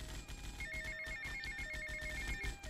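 A telephone rings in the video game GTA: Vice City, a quick repeating electronic trill in a clear, regular pattern, fairly prominent over a low game background.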